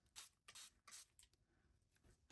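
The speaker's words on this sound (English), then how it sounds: "I'm just gonna spray down some water." A spray bottle mists water onto watercolor paper in a mixed-media painting session, four or five quick hissing pumps at an uneven pace, close but quiet, with faint rustling between them.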